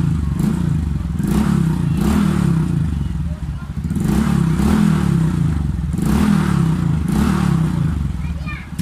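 A motorcycle with a loose, rattling exhaust, its engine swelling in repeated rhythmic revs about every two seconds with a clattering buzz, close and loud, while a voice talks over it.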